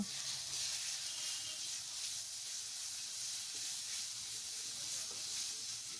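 Chili powder and spices sizzle and hiss in hot oil in a pan as they are stirred and fried for a fish curry, a continuous close bright frying noise without pauses or talk.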